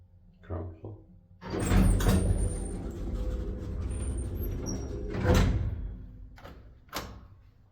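Doors of a 1976 Kone roped hydraulic elevator sliding open and shut on the ground floor, a loud rumbling run followed by a second, shorter surge and a closing thud, heard nearby.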